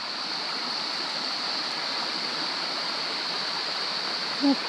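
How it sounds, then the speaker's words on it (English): Steady rushing water of a small waterfall cascading on Mobong Creek in Cascade National Park, a constant broad wash of sound with no voices. "The top of the cascade, little waterfall."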